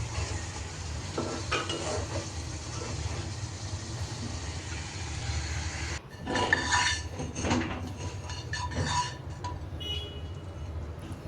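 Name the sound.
onion, chilli and potato sautéing with spices in a pan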